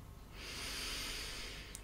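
A deep inhale through the nose during a relaxation breathing exercise, a single steady airy intake lasting under two seconds, close and soft.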